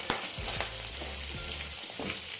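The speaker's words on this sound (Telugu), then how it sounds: "కొంచెం ఈ బోటి అనేది ఫ్రై చేసేటప్పుడు కొంచెం టపా టపా అని పేలుతూ ఉంటుంది" Pieces of goat tripe (boti) coated in garam masala fry in hot oil, a steady close sizzle broken by scattered sharp pops and crackles.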